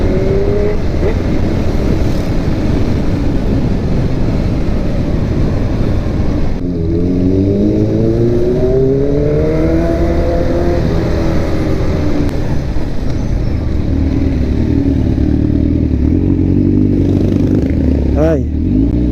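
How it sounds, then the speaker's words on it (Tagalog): A 1000cc big bike engine revs loudly and close, with a rough, steady drone that sweeps upward in pitch at intervals and settles back, with a final sharp rise at the end, while a person talks over it. "Ang lakas ng tunog, ang ingay. Iba ang datingan ng big bike"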